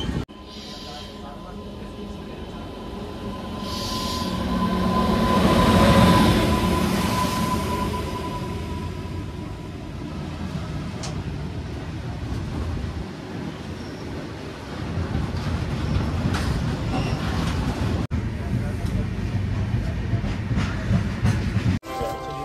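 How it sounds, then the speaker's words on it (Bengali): A passenger train rolls slowly along rails through dense fog on a journey from Jammu and Kashmir toward Kolkata, with a steady low rumble, wind-like rushing swells and faint clicking of wheels on joints. "তার মধ্যেও ট্রেন চলছে আস্তে আস্তে"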